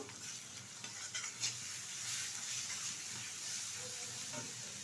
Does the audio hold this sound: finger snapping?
no